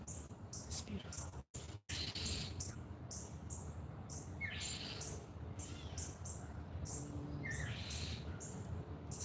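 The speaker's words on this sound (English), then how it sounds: "Do y'all hear like how the birds are like really communicating right now?" Outdoor birds chirp and call in short, repeated bursts at moderate distance, with faint insect buzz underneath and brief breaks in the sound.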